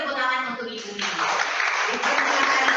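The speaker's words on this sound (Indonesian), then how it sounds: "Bapak dan Ibu angkat tangan, dan yang ada di sini tepuk tangan untuk Ibu Widya." A voice speaks briefly over a microphone, then a crowd breaks into steady clapping that carries on to the end.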